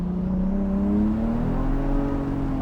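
A BMW 135 accelerates on a racing track, its engine note rising steadily in pitch over a few seconds, loud and close with a continuous droning tone and no voices.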